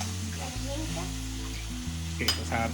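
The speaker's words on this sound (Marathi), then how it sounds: "त्यांना व्यवस्थित तेलामध्ये परतणार आहे" Homemade french fries sizzling steadily in hot oil, a close, continuous frying hiss with a low hum underneath and a brief stir or clink near the end.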